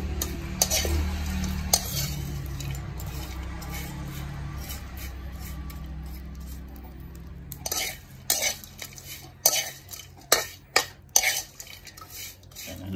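Fish with misua being stirred in a hot pan, first a low rumbling hiss, then a run of sharp utensil scrapes and clanks against the pan coming in a quick uneven rhythm, close up.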